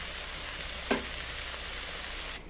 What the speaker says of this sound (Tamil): ஆட் பண்ணிவிட்டு இதை அடியிலேருந்து நல்லா கிளறி விட்டுடலாம்